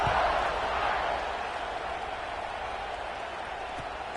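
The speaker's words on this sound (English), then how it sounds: "this crowd is feeling themselves after that last drive" A stadium crowd in the NCAA 26 college football video game roars steadily as a broad, distant wash of cheering and applause, holding at a constant level throughout.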